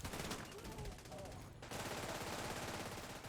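Sustained automatic gunfire rattles continuously from a firefight in the video game Tom Clancy's The Division 2, loud and dense throughout with a brief dip before resuming, while faint voices sit underneath.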